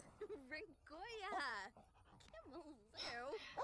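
A dog in The Sims 4 whimpers and pants in short, high, wavering cries, several bursts in quick succession, fairly close and clear, with no talking over them.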